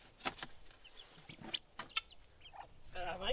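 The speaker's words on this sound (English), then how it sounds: "3 or 4 cracker pullets, and the half American is a cockerel" Cracker chickens, pullets and a half American cockerel, cluck softly in a coop, with several short close clucks scattered over a few seconds and a louder burst of calls at the end.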